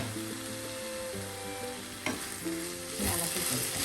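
Beans thoran cooks in a pan over low flame, a soft steady sizzle with a spoon scraping and stirring, the clatter getting louder toward the end, heard close with no speech.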